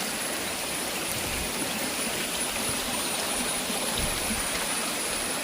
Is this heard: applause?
no